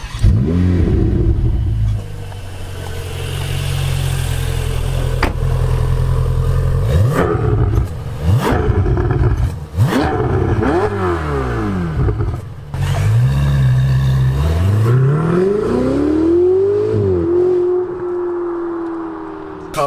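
A Ferrari 488 GTB engine idles with a loud, close rumble, then revs repeatedly in rising and falling bursts, ending with a long climbing rev.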